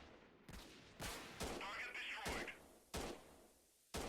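Sniper rifle shots in the Freeman: Guerrilla Warfare video game, a town assault on mountain bandits, about six sharp cracks spaced unevenly around half a second to a second apart, loud and close, no talk.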